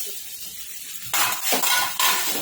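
A spoon stirs a spiced poha dhokla mixture with red chili powder and turmeric, making close, loud scraping and clinking strokes against the bowl that start about a second in and repeat in uneven bursts.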